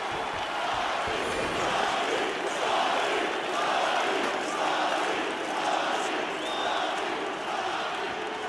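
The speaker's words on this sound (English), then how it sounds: "the crowd voicing its appreciation after that crazy sequence in the previous round" Crowd cheering and roaring in the UFC 4 fighting video game between rounds, a steady wash of arena noise with faint whistles.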